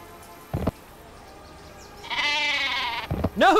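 The sheep weapon bleats in the Worms Reloaded video game; a brief sound effect opens the clip, then a loud, wavering bleat plays on its own for about a second, followed by another short burst.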